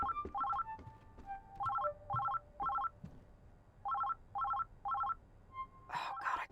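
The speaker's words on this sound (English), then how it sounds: "The phone!" A phone rings in the video game Oxenfree 2: Lost Signals, a soft electronic trill repeating in short bursts, with a steady tone underneath and quiet talk in places.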